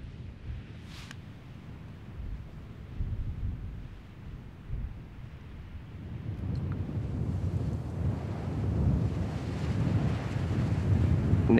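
Wind gusting across open hills in Norway, buffeting the microphone with a low, rough rumble that starts moderate and grows stronger and denser toward the end.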